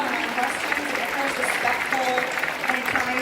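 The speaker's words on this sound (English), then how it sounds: "Give yourselves a round of applause." An audience at a Comic Con panel in Wales applauds, a dense, steady wash of clapping from many hands that fills the whole stretch without letting up.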